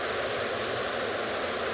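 Steady broadband rush of water from Josephine Falls in tropical north Queensland, a constant close roar with no breaks and no voices.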